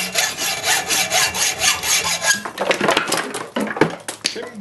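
A hacksaw cutting through metal brackets on a washing machine: fast, rhythmic back-and-forth rasping strokes, close and loud, slowing into irregular grinding scrapes toward the end.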